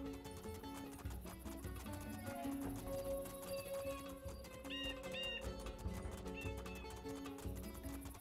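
A horse in the Two Worlds II video game whinnies faintly over steady background game music, with soft hoof sounds mixed in.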